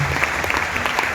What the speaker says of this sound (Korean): 우리 큰 박수로 한번 감사의 마음 전하겠습니다